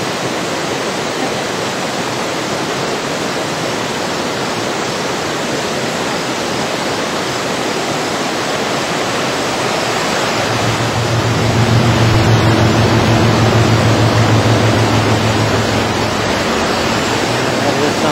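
Rushing water from a creek prone to flooding roars steadily and loud throughout, a broad continuous torrent with a deeper swell midway; a few voices murmur faintly beneath it.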